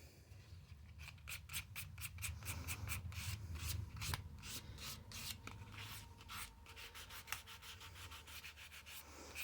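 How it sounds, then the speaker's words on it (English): Fine-grain sandpaper rubs over a seam on a painted statue in a steady run of quick, close scratchy strokes, brisk and rhythmic, with no voices. "So I'm using a really fine grain sandpaper just to soften it up."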